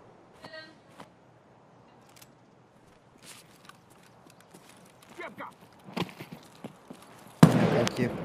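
Sharp gunshot bursts from a DP machine gun in Escape from Tarkov, mostly faint and scattered with one loud close burst at the end, under occasional speech.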